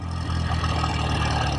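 A 1969 BSA Thunderbolt 650 motorcycle engine drones steadily while riding around town, a close, even mid-pitched hum with no pauses.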